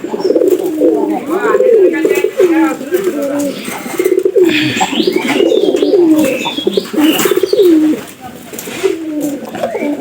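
Pigeons cooing steadily in a loft where they are kept, with repeated rolling coos overlapping one another close by, occasional higher chirps, and a person talking now and then over the birds.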